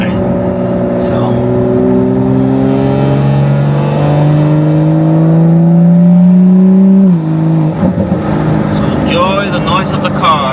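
A BMW M240i engine revs and pulls through the gears from inside the car, a loud droning note climbing steadily in pitch, dropping at a shift, then rising again.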